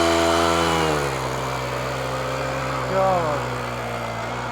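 A 105cc 4 HP four-stroke petrol engine on a tiller for inter-row weeding and earthing up of crops runs steadily, its harmonic drone dropping in pitch after the first second, with a brief rise near three seconds.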